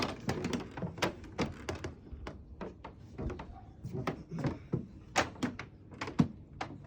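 Big Green Egg kamado grill part being set back into place, a series of close wooden-sounding knocks and thunks with scattered rattles, moderately loud and uneven in rhythm.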